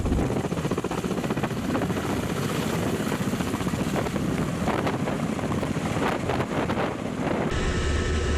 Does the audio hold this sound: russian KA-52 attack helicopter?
yes